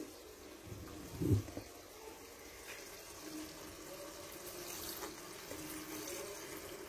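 Water is poured into a cooking pot while making pepper soup with fresh fish and eggplant: a steady, moderately loud running pour with a brief louder splash near the start, carrying on without speech.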